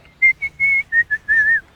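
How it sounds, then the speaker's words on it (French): A person whistles a melody alone: a string of short, clear notes followed by a longer, wavering sustained phrase, close and fairly loud. "Je siffle."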